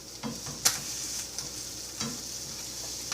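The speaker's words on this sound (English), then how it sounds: "And flip over the tortilla. Now the grease from the butter and everything is making this tortilla kind of greasy." A tortilla fries in butter in a pan, with a steady, moderate sizzle broken by a few light scraping and clattering knocks from turning it.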